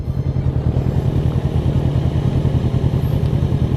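A Kawasaki Z900 and a Honda CBR650 idle or ride slowly, giving a steady, close, pulsing engine rumble that holds evenly with no break.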